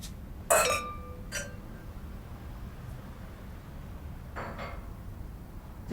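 Glasses clinking in a toast at a dinner gathering: one bright clink followed by a lighter second touch, then a fainter clink a few seconds later, close and clear over a quiet room.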